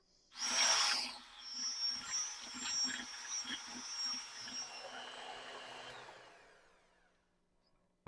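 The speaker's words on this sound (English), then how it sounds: "Now I'm going to go ahead and blend this all together." Blender mixing coconut milk and spices for dairy-free pumpkin custard: a sharp startup burst, then a whirring, churning hum with rhythmic pulses for several seconds before the motor winds down, with no talking.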